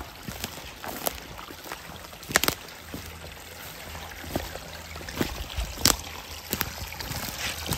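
A stream flows at a campsite with a steady trickling, sloshing wash, close by and moderately loud, dotted with sharper splashes and clicks, and a dog may be upstream in the water.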